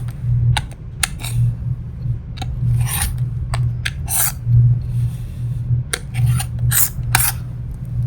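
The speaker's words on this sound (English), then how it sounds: "Just lay that center line here right on top of your center of your fabric and trim it off." A Trim-Lock trimming tool cuts the edges of a fabric quilt block with a series of short, crisp rasping cuts at an irregular pace, close up, over a steady low hum.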